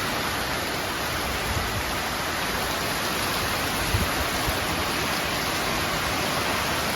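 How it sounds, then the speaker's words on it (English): Steady rain falls everywhere, a dense even hiss of raindrops that holds at the same loudness throughout, with no voices. "Raindrops everywhere."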